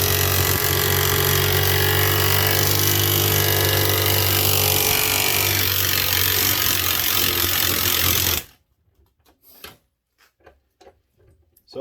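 A Ryobi One+ HP impact wrench hammering on a bolt gives a loud continuous rattling drone for about eight seconds, then stops abruptly, leaving only a few quiet clicks and knocks.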